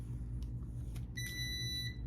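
A shrill electronic beep from an Eenour heat press, with harmonic overtones, sounds steadily over a constant low hum, joined by a few brief clicks beforehand.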